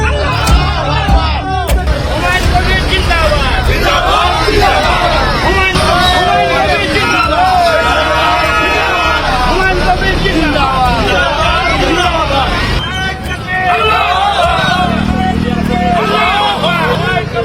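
A large crowd gathers at the Babri Masjid site, a dense outdoor babble of many voices that stays loud and close throughout. Vehicle noise mixes in with the chatter.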